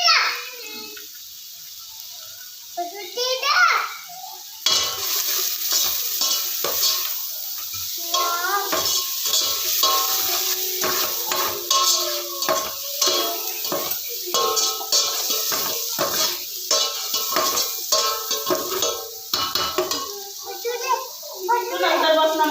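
Hakka noodles fry in a pan with tomato sauce as they are stirred, a steady sizzle broken by scraping strokes while a child and an adult chat nearby throughout.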